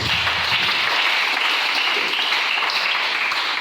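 A church congregation applauds together, a steady wash of clapping that fills the room at even loudness from start to finish.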